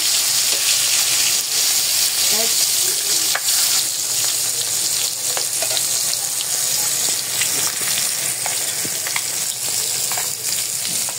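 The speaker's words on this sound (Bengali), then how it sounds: "এখানে আমি মাছ ভাজি করে নিতেছি।" Pieces of katla fish fry in hot oil in a pan, a loud continuous sizzle with occasional crackles and spatters, close and steady throughout with no talking.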